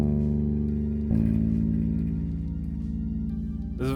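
Low notes on a vintage bass guitar's remaining strings ring out one after another, each plucked note sustaining with deep warm tone, heard alone and fairly loud.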